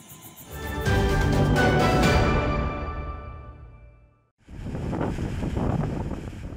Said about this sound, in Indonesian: Ombak besar dan angin kencang kerap terjadi.